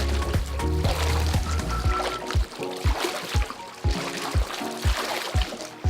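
Water splashing and sloshing in a swim spa during a cardio workout, rhythmic repeated splashes close by with a low hum beneath.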